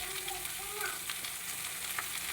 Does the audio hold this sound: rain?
no